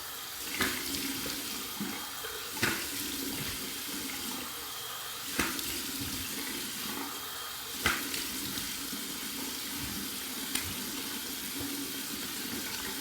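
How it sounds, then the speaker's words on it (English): Warm water runs steadily from a sink tap in a continuous hiss, with a few soft knocks and clinks at irregular intervals. "So first a warm water rinse from the tap."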